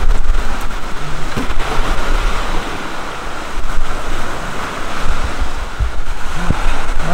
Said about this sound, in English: it is starting to pour, rain